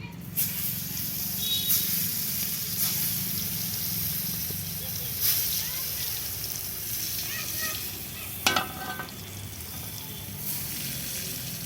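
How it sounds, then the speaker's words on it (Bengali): Eggplant slices sizzle in hot oil left over from frying papad, a steady close hiss with occasional crackles and spatters while someone talks over it. "পাঁপড় ভাজা তেলেই বেগুন ভেজে নিচ্ছি"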